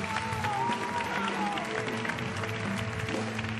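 Studio audience applause on a Turkish TV comedy show, a steady, fairly quiet patter of clapping under music and voices for the whole stretch.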